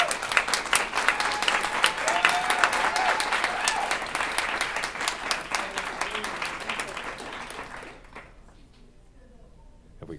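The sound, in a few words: audience applause for Michael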